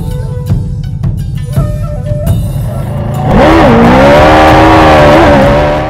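A Yamaha VMAX 1700 motorcycle engine blips a few short revs, then roars into a long loud rising and falling rev, close and powerful with no talk.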